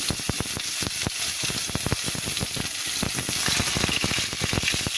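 Onion and garlic frying in hot mustard oil, a dense crackling sizzle full of rapid popping spits, loud and close throughout with no voices.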